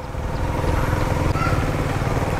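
Motorcycle engine running nearby in a village lane during Eid, a steady low chugging rumble that holds for a couple of seconds amid faint background noise.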